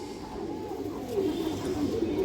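Large Indian high flyer Kaldam hen pigeon giving low, throaty coos that swell and fade in a continuous murmur, close by against a steady background hum.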